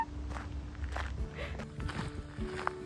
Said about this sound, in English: like when you're walking on little rocks kind of thing, like that crispy sound you're getting